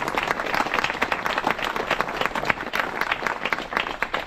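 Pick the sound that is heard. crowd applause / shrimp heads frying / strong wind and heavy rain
crowd applause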